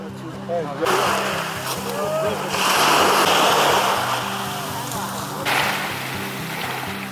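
Waves wash against the shore of Qinghai Lake, China's largest lake, as a steady rushing surf swelling and easing over several seconds, with a low engine-like drone and speech running underneath.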